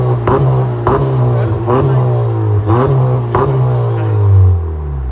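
A 2018-2021 Honda Accord Sport with a straight pipe exhaust revs several times at a car meet, loud and close, with a deep droning exhaust note and sharp rising blips.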